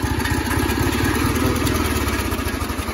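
A small engine started by push button runs at a rough idle, a steady low clattering putter, loud and close throughout with no talk.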